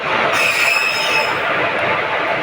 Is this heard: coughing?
no